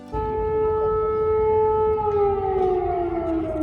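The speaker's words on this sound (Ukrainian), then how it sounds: "І знову сирена, як я вже давно її не чула." A steady wailing air raid siren holds a constant pitch, then slowly drops in tone, loud and continuous with no other sounds.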